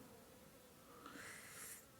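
A soft, steady insect buzz of honey bees hovering close by during a hive inspection, swelling slightly louder toward the end, with no voices.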